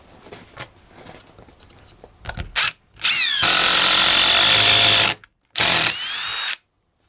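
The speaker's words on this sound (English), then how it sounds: "I would not want to be driving screws without an impact driver" An impact driver driving screws in a workshop, opening with scattered taps and short bursts, then a long loud rattling hammering whine of several seconds, a brief pause, and a second shorter burst before stopping.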